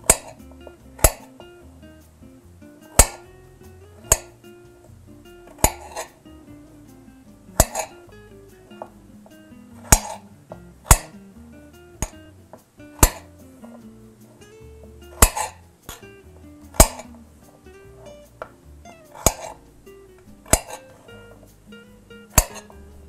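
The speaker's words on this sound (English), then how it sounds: "cut thick pieces. And cut down the middle, and then zigzag." A knife chops potatoes into thick pieces on a board, giving about a dozen sharp, near knocks at an irregular pace with quiet gaps between them and no talk.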